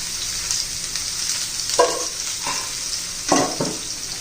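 Ridge gourd sautés in oil in a pan, a continuous close sizzle broken by several scraping strokes of a spatula stirring the pieces.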